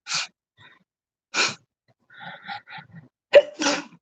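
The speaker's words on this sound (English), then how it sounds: "Oh God, I almost sneezed." A person sneezes sharply near the end after several quiet breaths and sniffs, with a short gasp just before.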